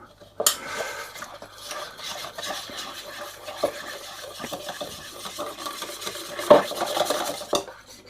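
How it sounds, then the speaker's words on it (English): Milk being mixed little by little into pancake batter in a bowl, heard as close, irregular whisking and stirring with scrapes and clinks of a utensil against the bowl, without talk. "What I'm going to do now is gradually add milk, just a little bit at a time, and then mix it in."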